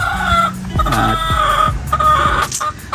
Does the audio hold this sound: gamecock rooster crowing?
yes